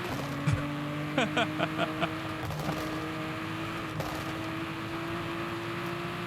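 A racing car engine in Forza Horizon 5 drones steadily at a high pitch, shifting slightly in tone, with a few brief clicks and knocks over the top.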